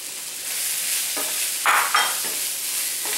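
Red onions sizzle in a hot pan for a butternut squash curry, a steady broadband frying hiss with a few louder bursts as they are stirred, close and continuous with no talking.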